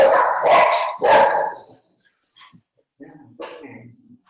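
A dog barks twice in quick, loud succession near the microphone during an online music workshop, followed by a few fainter yips and whimpers.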